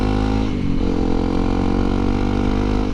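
A Honda CRF250L Rally dual sport motorcycle rumbles along close up at steady revs, its engine drone loud and continuous with a slight shift in pitch early on.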